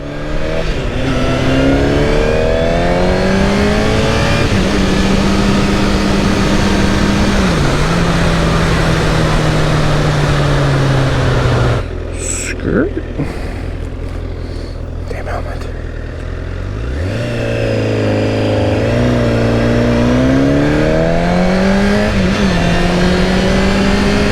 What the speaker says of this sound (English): Prius versus Prius. Prius is winning.